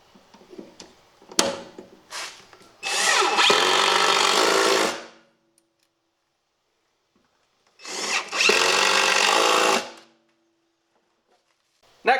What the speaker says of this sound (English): We're going to screw that in there